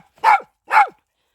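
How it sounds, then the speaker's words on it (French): A dog gives two sharp, loud barks close by, evenly spaced about half a second apart, with silence around them. "Ce chien est chiant."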